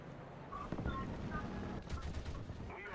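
Aircraft machine guns and cannons fire in a World War II flight combat game against planes such as a Do 335 and Focke-Wulf 190, bursts of rapid gunfire with distant thuds, intermittent and mid-distance.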